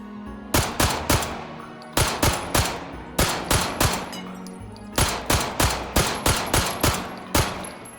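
Rapid bursts of 9mm gunfire from a 1911 pistol fed by a 17-round magazine in the VR shooting game H3VR, sharp loud cracks fired in quick strings of three to five, each set separated by short pauses.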